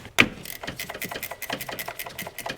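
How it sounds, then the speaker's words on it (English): Rapid mechanical clicking of a ratcheting wrench turning the 12 mm nut on a starter cable of a 2006-2010 Subaru Legacy Outback, a sharp knock followed by steady close ticks. "That's a 12 mil I'll get with a ratcheting wrench"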